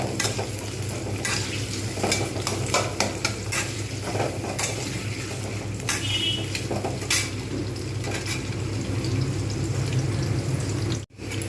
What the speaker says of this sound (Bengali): পেঁয়াজটাকে একটু ভালো করে লালচে করে ভেজে নেব।